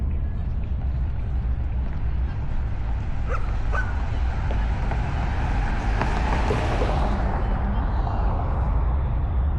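Outdoors on a walk beside Bachman Lake in Dallas, a dog barks and yips a few times at moderate distance over steady wind and traffic noise.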